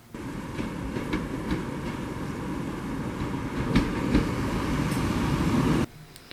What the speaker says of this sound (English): the train came back to Coombe Junction Halt to pick us up